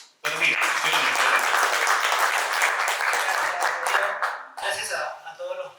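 Strong applause greets a speaker arriving at a morning energy forum in Cusco. A short silence comes first, then sustained clapping that thins and tapers toward the end.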